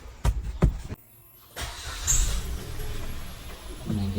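A Suzuki Wagon R AGS engine starts up after a few clunks and a short pause, then settles into a steady mid-level idle heard from inside the car.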